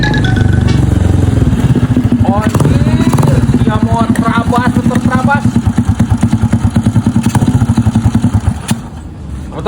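A motorcycle engine runs close and loud with a steady rapid pulsing throb, revving in a few rising bursts, while people talk over it throughout.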